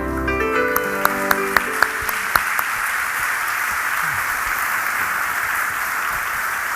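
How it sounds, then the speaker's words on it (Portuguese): A church congregation bursts into sustained applause, starting with a few sharp individual claps and swelling into a steady, dense wash of clapping from many hands that carries on evenly to the end. "Vamos aplaudir esse irmão"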